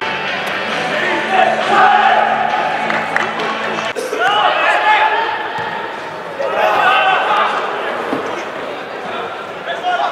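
Stadium crowd at a Slovenian league football match, Olimpija Ljubljana versus Domžale, roars and claps in a steady, loud wash that swells twice, with voices talking through it.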